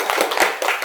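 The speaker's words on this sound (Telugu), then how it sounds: "మొదటగా రవి నాయక్ దంపతులకు మనము చప్పట్లతో ధన్యవాదాలు" Brief burst of hand clapping from a gathered audience in a hall at a Blue India Party meeting in Khammam, giving thanks to the Ravi Nayak couple; several quick, close claps over under a second.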